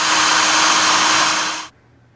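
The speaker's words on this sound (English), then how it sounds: "So let's drill some holes." A power drill bores holes into the body of a used box truck, giving a loud, steady high-pitched whine that runs for under two seconds and then cuts off abruptly.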